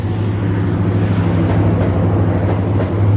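A passenger train rolls past Bumi Waluya station while crossing the Pasundan service, giving a loud, steady rumble with a low droning hum and faint rail clatter throughout, with no talking.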